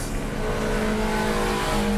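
Junior sedan race cars roar around Moranbah Speedway, a loud, continuous, revving engine drone with a sustained whining tone and faint tyre noise, with no gaps.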